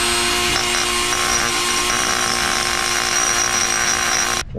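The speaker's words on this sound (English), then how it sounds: "Let's grind this down a little bit." An angle grinder cuts down a stuck bolt on a 2003 Chevy Cavalier, a loud, continuous high-pitched whine that holds steady for several seconds before cutting off abruptly, with no talking.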